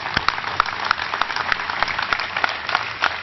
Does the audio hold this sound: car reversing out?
no